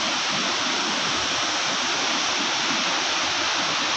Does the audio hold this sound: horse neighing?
no